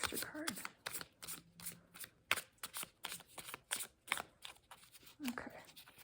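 Tarot cards are shuffled by hand in quick, crisp riffling bursts during a reading, with a soft voice talking quietly over the shuffling.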